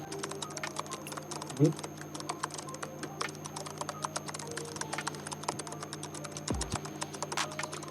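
Steady typing of an ID card number on a computer keyboard, a continuous run of quick, light key clicks at close range over faint background hum, with no talking.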